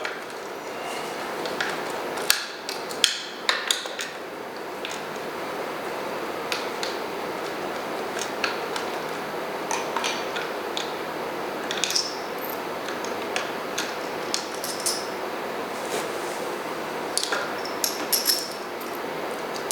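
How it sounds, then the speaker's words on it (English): Bolts are loosened and removed from a bicycle disc brake caliper and its adapter, with sharp scattered metallic clicks and ticks from tools and parts over a steady background hiss, close by and without talk. "And then to remove the brake caliper."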